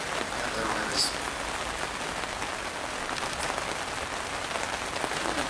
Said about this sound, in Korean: 잠깐 빗소리 들으면서 묵상하는 시간 갖도록 하겠습니다.